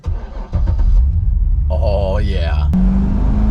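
A manual-transmission Corvette idles with a deep, steady engine rumble that stays loud and close throughout, with a brief exclamation from a driver over it.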